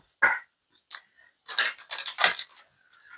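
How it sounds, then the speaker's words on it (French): A small dog that has just woken up yaps in short sharp bursts indoors, a single bark followed by a rapid cluster of loud, close barks. "le chien s'est réveillé, et puis bon, comme il est petit, il fait le fou"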